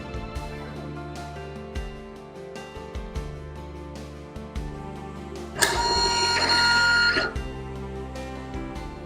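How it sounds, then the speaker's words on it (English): An 80 mm serial receipt printer on a smart cash register prints with a buzzy mechanical whir that rises to a louder, sustained burst near the end, with clicks and rattles throughout and no talk. "Second, let us show the 80 mm serial printer."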